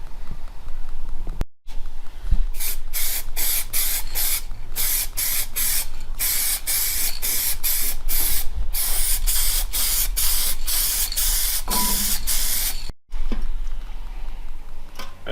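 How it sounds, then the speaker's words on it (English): Weld-through copper primer sprayed from a can onto a car body panel in a workshop, coming as a series of rapid, close, hissing aerosol bursts with short gaps between them, loud and without speech. "Just going to spray it with our favourite weld through copper primer"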